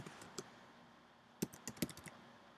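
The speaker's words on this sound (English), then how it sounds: "And then you are going to type in your password." Keystrokes on a computer keyboard while a password is entered: soft, sparse clicks at first, then a quick cluster of sharper taps, all faint and close with no talking.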